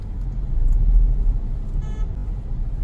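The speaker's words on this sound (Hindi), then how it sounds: "भाई ट्रैफिक बहुत ज्यादा है यार, बहुत ज्यादा ट्रैफिक है सीरियसली" Dense road traffic on a trip route in Uttarakhand rumbles as a continuous low roar of cars and buses, with a brief horn-like tone near the middle, loud and close without speech.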